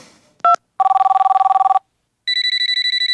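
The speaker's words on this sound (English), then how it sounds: "even though that's an old touch-tone phone" An old touch-tone telephone rings in loud electronic trill bursts: a short chirp, then a long warbling ring, a pause, and a second higher-pitched trill, with no talking.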